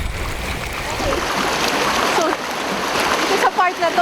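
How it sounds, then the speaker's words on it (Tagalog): Rough, fast river water rushes and splashes over a falkata wood raft, a steady loud roar with sharper splashes near the end and people speaking over it. "Nilamon ng tubig ang aming balsa."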